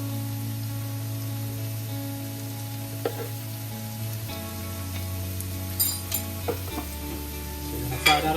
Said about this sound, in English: garlic and the shallot going in there now. And I'm gonna put my green seasoning in there to fry